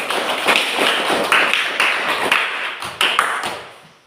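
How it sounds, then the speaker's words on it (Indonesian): Classmates applaud a student group after its presentation in a classroom, giving brisk, uneven clapping that fills the room and fades out toward the end. "Kita beri aplaus"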